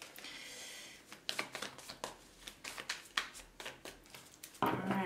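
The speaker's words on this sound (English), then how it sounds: "Am I finished with my shuffling?" Tarot cards being shuffled close by: a run of crisp, papery flicks and riffles in irregular bursts, with a sharper slap of cards near the end.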